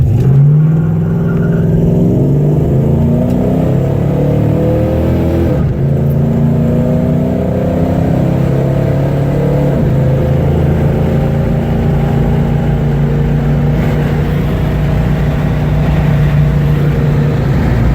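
Close up and loud, a 1969 Dodge Charger 500 Daytona engine revs as it drives, its pitch rising and falling through several rev sweeps over a steady road rumble, with no one speaking.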